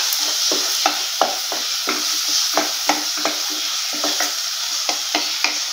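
Chopped onions sauté in a pan over a medium flame toward golden brown for egg rice, with a steady sizzling hiss broken by regular scraping stirs about every half second, close and alone.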